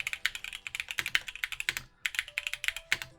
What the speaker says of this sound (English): If you guys like a clacky board, that sounds phenomenal.